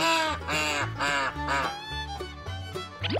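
Several baby ducks quack in quick succession by the water, close and clear, a busy run of nasal calls with brief gaps.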